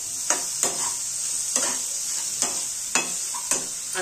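Chopped ridge gourd stir-frying in a pan with chutney, a constant bright sizzle overlaid by rhythmic scraping strokes of a spatula roughly every half second.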